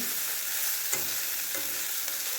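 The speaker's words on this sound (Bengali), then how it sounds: "এরপরে আমরা চিড়া যে ধুয়ে রেখেছিলাম, সেই চিড়া আমরা আস্তে আস্তে দেবো আর মিশাতে থাকবো" Soaked flattened rice stirred into chira pulao in a hot pan, a continuous close sizzle with soft scraping and stirring scuffs, no voices.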